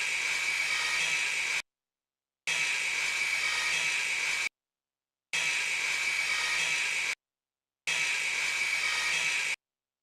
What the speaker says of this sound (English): Can I sharpen your sword?